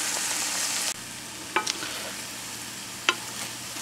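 Eggs added to wilted spinach in a hot pan: a steady loud sizzle drops off sharply, then softer frying continues with a few quick stirring clicks.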